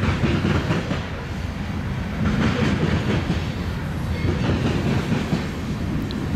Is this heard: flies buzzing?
no